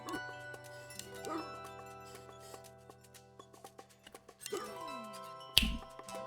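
Short dog barks and a whimper from a dog character in the video game Creaks, set over steady game music with a clink near the end.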